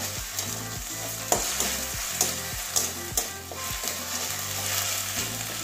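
Ginger-garlic paste sizzles steadily in a hot pan for a Bengali egg and cauliflower curry, a continuous close frying hiss with occasional stirring clicks over soft rhythmic background music.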